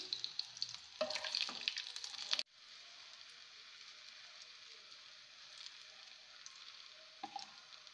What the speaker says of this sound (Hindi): और 30 से चालीस सेकेंड एक साइड को मैं फ्राई होने दूँगी